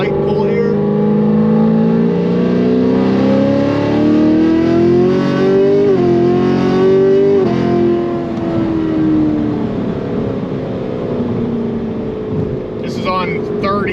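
A Stage 5 Procharged LT1 Camaro on 30% ethanol and soft tires pulls hard, its supercharged engine droning loud and close with rising pitch through the gears, one brief shift dip midway and a lift near the end, with talk over it.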